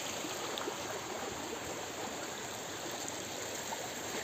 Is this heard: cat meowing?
no